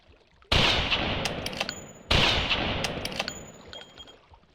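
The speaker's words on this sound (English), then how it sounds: "I'm probably wasting a lot of shots here." Two loud gunshots ring out about a second and a half apart in the dinosaur-hunting video game Carnivores Jurassic Park Revolution, each a sharp blast followed by a long rolling echo that fades slowly.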